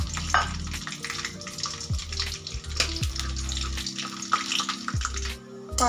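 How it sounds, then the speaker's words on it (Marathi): Peanuts fry in hot oil for kanda poha, a steady sizzle with scraping stirs, occasional clinks and low hum, fairly close and continuous without speech. "अगोदर आपण ना शेंगदाणे तेलामध्ये तळून घेणार"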